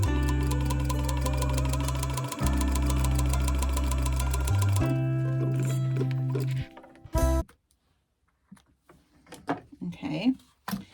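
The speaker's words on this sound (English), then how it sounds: "we're going to top stitch this 1/8 of an inch" A sewing machine runs in loud, rapid, even bursts, top stitching clear tote fabric an eighth of an inch from the edge, then stops, leaving a few soft handling clicks and rustles.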